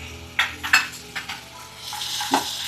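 Tomato pieces and cashews hit a hot pan for an egg curry and get stirred, giving a bright close sizzle with several sharp utensil scrapes and clinks in quick succession.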